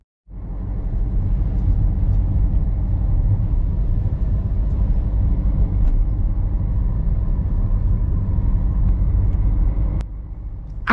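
A car drives through Sutton Bonington village, producing a steady interior road rumble and engine drone that starts abruptly, holds even and fairly loud, then drops in level near the end.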